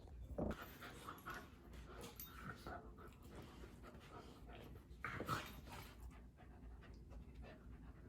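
Dogs panting softly and quickly in a home kitchen, faint and close with a small whimper or two, while low talk is heard in the background.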